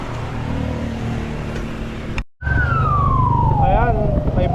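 A fire truck siren passes on a street during a blaze, wailing loudly and close with a long falling sweep and warbling bursts over heavy traffic rumble after a brief cut.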